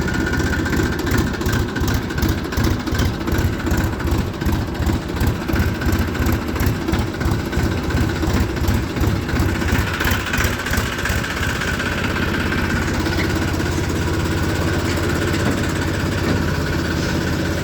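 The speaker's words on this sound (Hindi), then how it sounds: "चल रहे हैं बस अब ट्रैक्टर को लेकर जी" A tractor engine chugs steadily with a pulsing, low throb, loud and close, running continuously on the road with a sugarcane trolley, with a slight change in tone toward the end.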